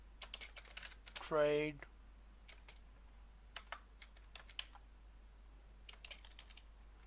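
Brisk clicks of typing on a computer keyboard, scattered in short irregular bursts over a quiet room, with a short spoken word near the start.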